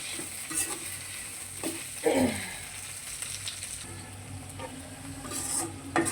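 Green chilies stirred into sizzling ingredients in a hot pan, a continuous frying hiss broken by a few scraping stirs and one louder clatter, with no talk.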